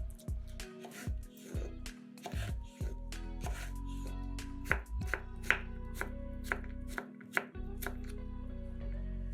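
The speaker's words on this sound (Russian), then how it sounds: "Один огурец также режем кубиками." A cucumber being diced with a knife on a cutting board, a rapid series of close, crisp chopping knocks in uneven bursts, with no talking.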